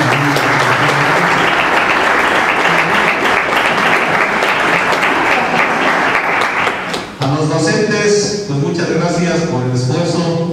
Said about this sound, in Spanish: un aplauso para estas cuatro